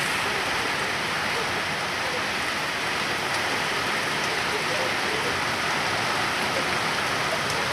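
Dense, unbroken downpour in a windstorm roaring evenly throughout, a loud wash of heavy rain close by, heard from indoors.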